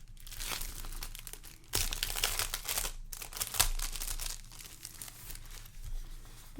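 Decorative mulberry-style craft paper with embedded bits being handled and crinkled up close, a steady crackling rustle with louder bursts as it is folded and pressed, no voices.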